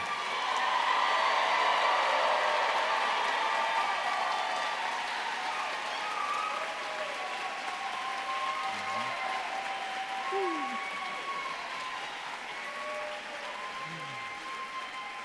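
Steady applause from a graduation audience at a Black graduation ceremony, loudest at the start and slowly tapering, with cheers and whoops rising over the clapping and voices in the crowd.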